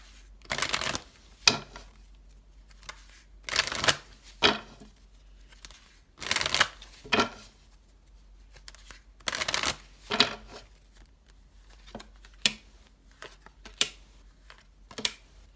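Tarot cards are shuffled by hand in several riffling bursts separated by short pauses, close and crisp in a quiet room.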